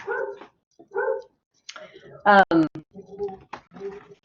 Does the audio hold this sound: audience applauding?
no